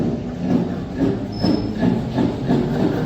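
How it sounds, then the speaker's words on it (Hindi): An electric flour mill (chakki) starts and runs with its belt drive, producing a steady, loud mechanical rumble with a faint rhythmic pulsing roughly twice a second, close by and with no talk. "तो चक्की चालू हो चुकी है दोस्तों"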